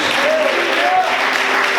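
A church congregation at a sermon on guilt breaks into loud, dense applause and cheering that fills the hall continuously, with raised voices mixed into the clapping.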